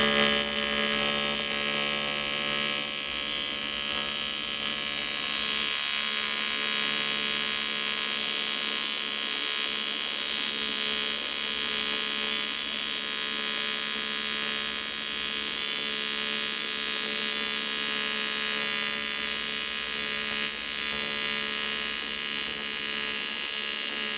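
A TIG welder lays weld beads on a steel practice kit, giving a continuous, loud, steady electric buzz and hum with no breaks and no voices.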